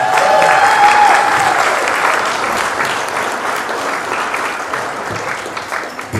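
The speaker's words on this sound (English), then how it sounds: "I think she deserves a round of applause for what she's done today." Guests at wedding speeches break into a round of applause, loud, sustained clapping that fades slightly over several seconds.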